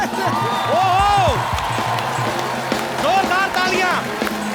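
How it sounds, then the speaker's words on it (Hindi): Loud, sustained audience applause and cheering for actor Riteish Deshmukh on a comedy show stage, with music and voices sounding over the clapping throughout. "जोरदार तालियां।"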